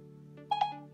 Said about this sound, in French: le téléphone sonne ici